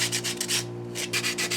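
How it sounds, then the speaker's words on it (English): Sandpaper rubs back and forth on the wooden body of a pinewood derby car in steady, rhythmic strokes, close and clear, with a low hum underneath and no talking. "Keep sanding."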